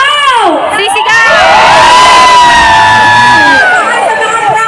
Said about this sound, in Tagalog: gusto namin kayong tumayo at sumigaw